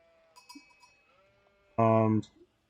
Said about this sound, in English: we missed one sheep down here